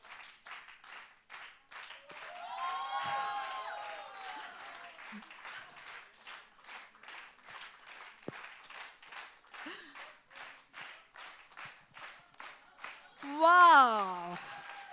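An audience at a women's awards event in Bengaluru claps in rhythmic unison, steady beats continuing throughout while someone speaks and sings over them, ending with a brief vocal burst.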